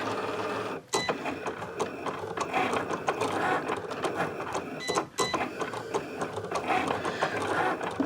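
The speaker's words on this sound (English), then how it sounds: "we're going to click our Cricut button, the little continue, and it's going to go ahead and cut out our glitter cardstock" A Cricut cutting machine works through glitter cardstock with a busy mechanical whir and rapid ratcheting clicks from its moving carriage. The sound is close and continuous, with two brief pauses near one and five seconds.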